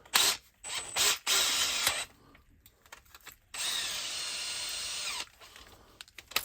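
A power drill with a 2.5 millimeter bit bores into a Volkswagen Passat B6 car door, sounding in several short bursts followed by one longer steady whir, close and fairly quiet, with pauses between.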